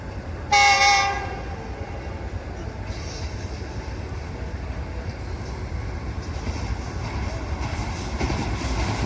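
Jaffar Express passenger train running in Balochistan while another train on the down main line overtakes it, with a loud horn blast near the start and then a steady close rumble and rolling rail noise.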